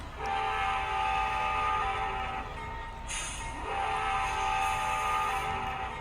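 A model train's custom horn sounds in a long, sustained multi-tone blast over steady rumbling engine noise, with a brief break midway.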